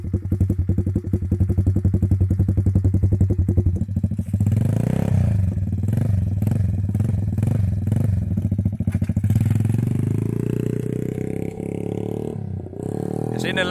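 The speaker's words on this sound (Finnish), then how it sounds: "Tällainen ihmeellinen minicrossi on kyseessä. Tenteen eli 10-10, 90cc. Aika makeet pörinät tässä on." A 10Ten 90cc mini motocross bike with a semi-automatic gearbox runs loud and close on a cold start. Its rapid, buzzy engine note holds steady, then turns rougher and climbs as the engine picks up revs.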